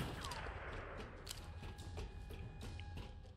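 Faint, distant gunfire from an action video game set in Hong Kong pops in irregular sharp reports over a steady background hum.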